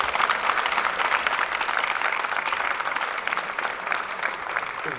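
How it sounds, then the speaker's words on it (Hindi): Dense, steady applause from an audience at a welcome party for juniors and seniors in the BZU commerce department in Multan, honoring teacher Ahmad sahib, continuous clapping from many hands with no talk. "जिसमें अहमद साहब के लिए तालियां बजाएं जनाब।"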